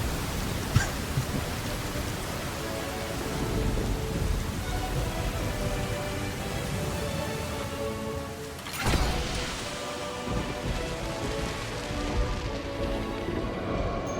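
Steady rain pours throughout a game trailer for Elden Ring Nightreign, with a sharp crack of thunder early on and a louder rumbling thunder burst near the middle before the downpour continues.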